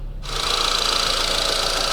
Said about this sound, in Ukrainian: Вийдемо на вулицю, покажу вам, як працює двигун